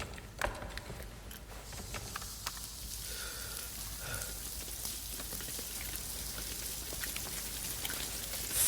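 Rain falls steadily, a dense close patter of drops with scattered sharper taps, continuous and moderately loud throughout with no voices.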